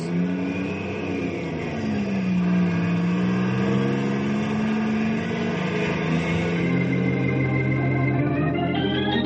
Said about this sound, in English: I'm going to ride in the truck down to the warehouse.